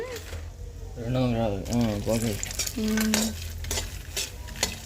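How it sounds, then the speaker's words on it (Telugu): Makhana (fox nuts) frying in oil and being stirred in a pan, a steady low sizzle and scraping beneath a person talking over it. "మకానా అయితే ఇంకా ఆయిల్లో వేసుకొని కొంచెం కొంచెం వేయించుకుంటూ వేయించుకుంటూ"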